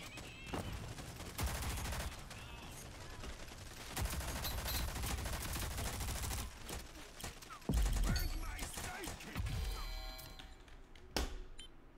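Gunfire from the video game Rogue Company rattles in dense bursts of rapid shots and thuds, with a player talking over parts of the shooting.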